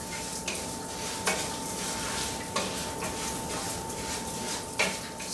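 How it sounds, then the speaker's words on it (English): Rice for Spanish rice sizzles and fries steadily in a pan, close and continuous. A utensil scrapes and knocks against the pan in periodic stirring strokes. "as you can hear it, it's already starting to sizzle"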